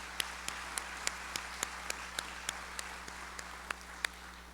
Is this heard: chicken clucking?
no